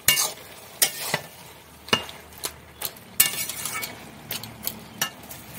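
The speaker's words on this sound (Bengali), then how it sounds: "এখন এটাকে এইভাবে খুলতে দিয়ে দিয়ে আলুগুলো কুমড়োগুলোকে আমি একটু ঘেঁটে দেবো, বেগুন টেগুনগুলো।" A spoon stirs and mashes potatoes, pumpkin and eggplant in a pan for a Bengali niramish ghet, giving about a dozen sharp scraping clinks at an uneven rhythm over a faint sizzle.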